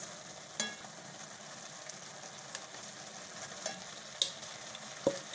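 Carrot halwa with mawa cooks in a pan with a faint, steady sizzle, broken now and then by soft clicks and scrapes of a spoon stirring.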